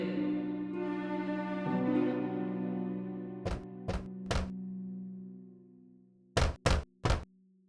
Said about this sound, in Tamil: பின்னர் குடிசைக்கு முன்னால் வந்து கதவை தட்டியது.